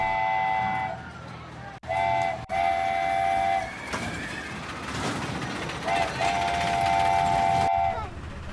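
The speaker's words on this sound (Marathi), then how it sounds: "आणि आता आपली रेल्वे आलेली आहे" A small ride train at Sayajiraje Water Park, Akluj, sounds several long, steady horn blasts over a rumbling engine and busy outdoor background noise.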